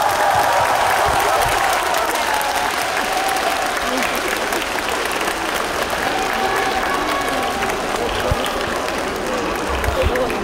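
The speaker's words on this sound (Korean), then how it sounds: "다시 한번 KB스타즈 농구단의 우승을 축하하는 뜨거운 박수를 보내주시면 감사하겠습니다" Large crowd applauding at a celebration concert for the KB Stars basketball team's championship, a dense, loud, continuous wash of clapping with scattered cheering throughout.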